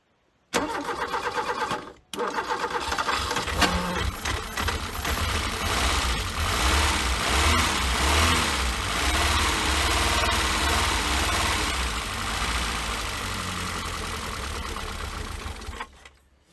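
A Peugeot 205 XS, abandoned for years, cranks briefly, pauses, then catches and settles into a loud, steady, slightly uneven idle running close by until it cuts off near the end.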